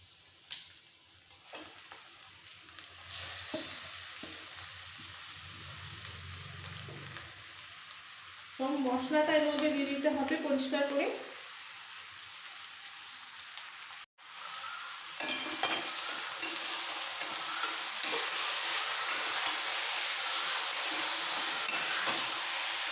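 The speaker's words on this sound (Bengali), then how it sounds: "সমস্ত ম্যারিনেট করা চিকেনটা দিয়ে দেবো পেঁয়াজ ভাজাটা হয়ে গেছে এবার দিয়ে দেবো চিকেনগুলো" Marinated chicken sizzles loudly as it fries with browned onions in a pan, a steady hiss with stirring and clinking partway through and no talk.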